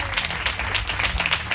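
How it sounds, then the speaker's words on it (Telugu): Congregation at a church revival prayer festival claps together, a loud close burst of crowd applause with distinct hand claps rising and falling. "గట్టిగా చప్పట్లు కొడతారా?"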